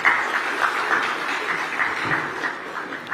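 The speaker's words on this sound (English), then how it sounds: "a big round of applause for all the panelists" A Web3 event audience in Pune applauding the panelists: sustained, even clapping from a crowd, moderately loud and slightly distant, with no talk over it.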